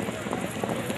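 Horses galloping at a neza bazi tent pegging event, a rapid drumming of hooves under a loud announcer's voice and crowd noise throughout.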